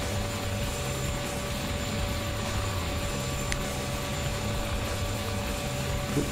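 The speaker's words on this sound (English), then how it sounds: "This helicopter's fast." Helicopter flying in the video game Arma 2: Operation Arrowhead, a loud, steady whirring rotor and engine drone with a constant whine, unbroken throughout and close.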